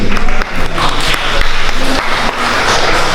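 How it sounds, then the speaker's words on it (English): Fashion show audience applauding a judge, steady loud clapping from a crowd close by, sustained throughout with slight dips in intensity. "Ladies and gentlemen, please, a round of applause for one of our judges this evening, Mr. Diamond 2019."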